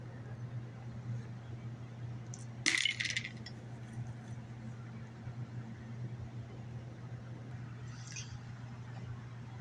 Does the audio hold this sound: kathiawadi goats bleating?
no